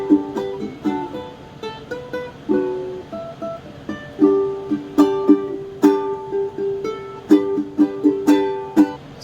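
Fingerstyle ukulele plays a Malayalam song, with plucked notes and chords ringing out in a steady melodic rhythm, close and clear with no voices.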